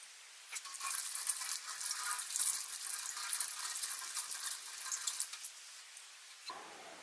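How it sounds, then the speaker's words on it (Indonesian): Hands are washed under a running kitchen tap before home cooking, with a steady rush and splash of water lasting about six seconds before it cuts off. "sebelum kita mulai, kita mencuci tangan terlebih dahulu ya"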